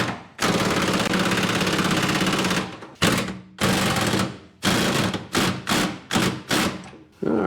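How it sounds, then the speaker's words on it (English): Impact wrench hammering on rusty gas tank strap bolts of a 1971 Cadillac Deville 472, loud and close, one long rattling burst followed by a series of shorter repeated bursts. "I'm just gonna break out the impact and see what happens."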